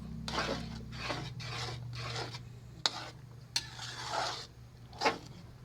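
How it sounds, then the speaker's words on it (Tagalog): Milk with condensed milk stirred in a pot: a spoon scrapes in repeated, rhythmic strokes over a low steady hum, with a few sharp clicks against the pot near the end. "Kailangan natin haluin para maluto na yung ating gatas."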